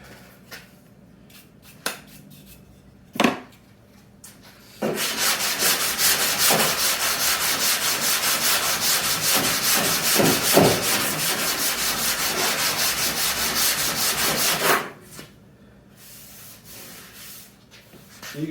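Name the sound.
sanding body filler on Camaro spoiler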